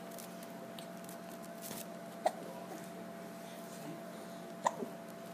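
Two small, soft hiccups from a baby come a couple of seconds apart, close but faint over a quiet indoor background with a low hum.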